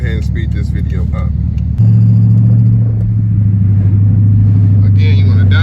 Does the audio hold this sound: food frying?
no